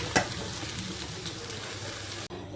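Boiled lentils stirred into a tarka masala in a pan, a dense close sizzle with a sharp clack of the spoon at the start, then a brief drop to quiet.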